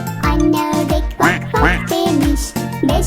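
A cartoon duck quacks loudly and repeatedly in a children's song, its nasal calls sung in rhythm over the backing music.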